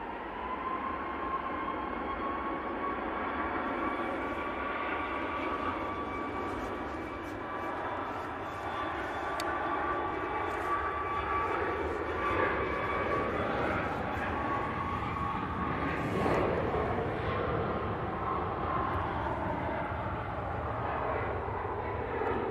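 A Ryanair jet taking off from Manchester Airport sends a distant, moderate engine roar with a faint whining tone, building gently across the stretch, with no speech over it.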